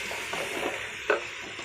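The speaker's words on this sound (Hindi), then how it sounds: "अभी मैं इसको 2 मिनट तक और भून लूँगी" Meat frying in a pot for namkeen gosht as it is stirred, a continuous sizzle with a couple of scraping strokes and one sharper clink, close by.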